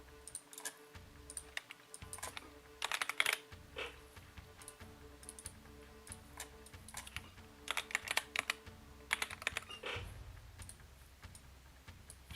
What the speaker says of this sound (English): Here we get his keyboard.